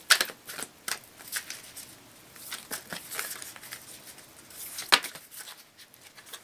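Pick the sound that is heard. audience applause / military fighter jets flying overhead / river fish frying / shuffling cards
shuffling cards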